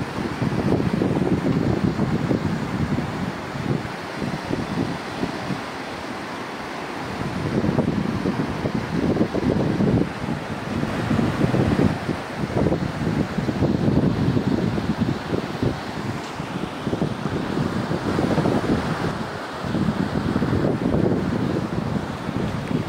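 Fast floodwater in the Yamuna river at Chilla Ghat, Banda, rushes and roars in a steady broadband wash, with gusts of wind buffeting the microphone throughout.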